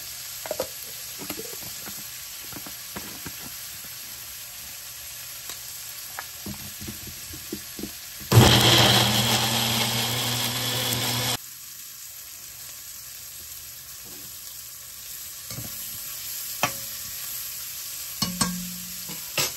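Ingredients sauté in a pan for a shrimp and drumstick curry. A soft sizzle and occasional stirring taps lead into a sudden loud burst of hissing frying that lasts a few seconds, then drops back to a quiet sizzle.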